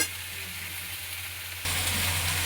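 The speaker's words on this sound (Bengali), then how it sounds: "সমস্ত সবজিগুলো তুলে দিয়েছি, কড়ার মধ্যে তেলের মধ্যে তুলে দিয়েছি।" Vegetables frying in hot oil in a wok, a dense continuous sizzle close up that suddenly grows louder and brighter partway through.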